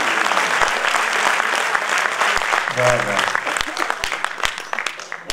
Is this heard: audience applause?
yes